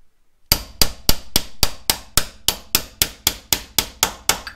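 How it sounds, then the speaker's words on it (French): Metal hammer strikes a pin punch to drive out a rear tie rod on a Lotus Elise, about fourteen sharp, ringing blows in a steady, even rhythm, close and loud with no talking. "vous reprenez votre chasse-goupille ou ce que vous voulez, marteau"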